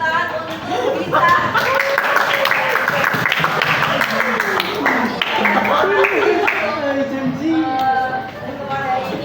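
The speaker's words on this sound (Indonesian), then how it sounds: "Tepuk tangan untuk kita." Applause in a classroom, a steady wash of clapping from a group lasting several seconds, mixed with chatter and some laughter.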